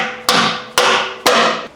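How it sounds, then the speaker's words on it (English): A hammer strikes three times at an even pace, knocking a chunk of weld loose during a truck cab mount relocation; each blow is a loud, sharp metallic crack with ringing decay, close by and with no voices. "you can take a hammer"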